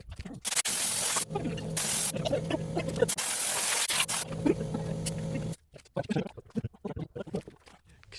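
A small sandblaster blasts air in loud, harsh hissing bursts, three long sprays separated by short pauses, with a steady mechanical hum underneath. It is used around a K-700 tractor. Softer clatter and rustling follow after the spraying stops.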